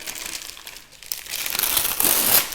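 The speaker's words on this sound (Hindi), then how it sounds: "इसके ऊपर जो पन्नी बना है इसको निकालते हैं।" A plastic wrapper being peeled and crinkled off a new MRF English willow leather cricket bat, close and continuous, with the crackling growing louder and busier toward the end.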